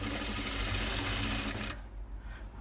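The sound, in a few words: sewing machine stitching a folded hem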